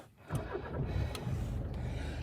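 Used car just imported from Europe with 215,000 km on the clock, its engine cranking briefly and catching, then settling into a steady close idle.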